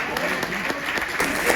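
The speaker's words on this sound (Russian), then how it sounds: "все равно аплодируют своим игрокам" Football fans at an Albion Rovers match in Scotland clapping for their players, a moderately loud burst of crowd applause with a brief voice over it.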